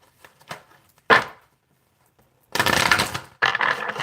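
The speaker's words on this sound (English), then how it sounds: "I'm going to shuffle this one more time." Tarot cards being shuffled by hand, a few light taps and one sharp snap, then two longer dense bursts of riffling cards, close and fairly loud with no talking.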